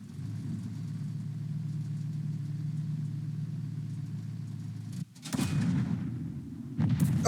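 Steady engine rumble from a tank in the Second Front video game, then a loud, sharp cannon blast about five seconds in. The blast is followed by a rumbling echo and a second, sharper impact near the end.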